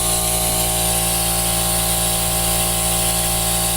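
Air compressor hissing a steady blast of air through the inside of a Sears Craftsman sander to clear out sawdust, loud and continuous with a constant motor hum and no talking.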